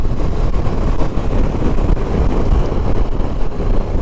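A Honda CB500X motorcycle engine drones loud and continuous while riding, mixed with heavy wind rush across the microphone.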